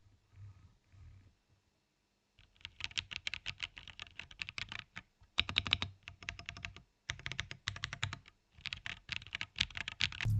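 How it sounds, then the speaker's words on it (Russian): Rapid clattering keystrokes on a Monsgeek M1W mechanical keyboard by Akko, with PCB-mounted switches, come in close bursts separated by short pauses, loud and crisp with no talk. "Monsgeek M1W – клавиатура, которая пригодится тебе, чтобы пройти свою любимую игру"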